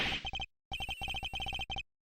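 Phone ringing in the video game Ace Attorney Investigations, Agent Hicks's phone, an electronic ring of quick trilled beeps in short bursts that repeats in clear, close clusters with no voices.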